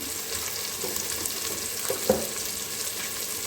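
Egg biryani masala with green chillies being stirred and mixed in a frying pan: steady sizzling and frying hiss with soft scraping stir strokes and a small clink near the middle, close and continuous.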